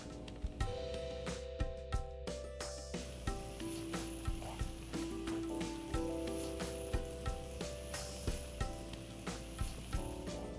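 Spinach puree and a white paste hit a hot pan for methi matar palak, a steady bright sizzle with repeated stirring scrapes running throughout, close and fairly loud with no talking.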